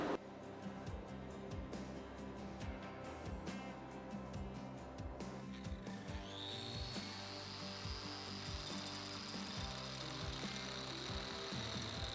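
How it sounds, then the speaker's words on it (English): Metal scorpion tongs being ground and filed in a workshop, a steady ongoing power-tool grind with rasping strokes, the tone rising into a sustained high whine about halfway through. "We're just going to start grinding and filing to get these guys together."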